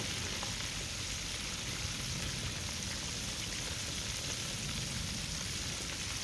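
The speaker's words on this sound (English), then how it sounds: "Shrimp don't take long to cook, especially if you're deep frying them." Steady, dense crackling and sizzling of shrimp deep frying in hot oil, constant and even throughout with no voices.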